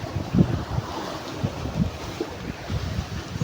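Rough sea waves slosh and churn around a boat near Gumaca, Quezon, with heavy wind buffeting the microphone and irregular splashes close by.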